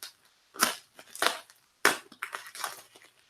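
Several sharp crunching cuts through stiff packaging, in short bursts with pauses between, close and fairly loud, no talking.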